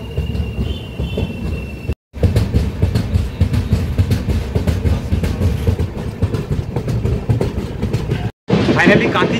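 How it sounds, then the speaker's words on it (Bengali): A night passenger train pulling out of Kanthi station on a single line, its steady low rumble and wheel noise running loud and continuous, with brief dropouts and a short tonal whine near the start. "ফাইনালি কাঁথি ছাড়লো ট্রেন"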